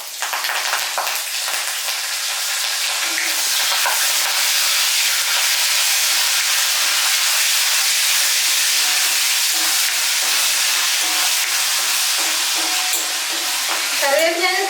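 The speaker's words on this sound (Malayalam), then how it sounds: "ഈ എണ്ണയിലേക്ക് തന്നെ നമ്മൾ കറിവേപ്പില ഇട്ട് കൊടുക്കുകയാണ്" Curry leaves are dropped into hot oil left to fry in the residual heat of a switched-off stove for chicken chutney. A loud, dense, steady sizzle and hiss runs throughout, close up and with no talking.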